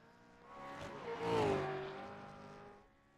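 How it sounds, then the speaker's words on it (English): A V8 Supercar race car engine on a hot lap at Bathurst, rising to a loud, aggressive tonal roar near the middle as the car passes, then fading away with a falling pitch. "The engine already sounds a bit more aggressive."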